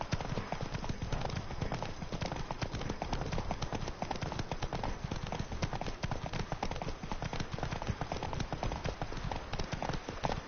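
Horse hooves gallop in a PS4 video game, a rapid continuous clip-clop drumming close and steady throughout.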